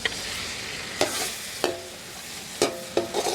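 Chicken fries in a pan with garlic-ginger paste under a steady sizzle. A spoon scrapes and stirs it in a few sharp, separate strokes, and no one talks.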